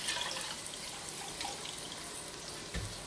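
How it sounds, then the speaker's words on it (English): Wine sloshes around inside an emptied tomato can and pours into a pot as a steady soft liquid rush, with a faint clunk near the end. "I'm going to rinse the cans out with about 1/4 cup of wine"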